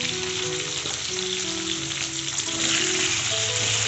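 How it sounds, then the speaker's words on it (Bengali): Salted potatoes fry in well-heated oil in a pan, making a loud, steady, dense sizzle that runs unbroken throughout, with a faint low hum underneath. "প্রথমে আমি আলুগুলোকে ভেজে নেব।"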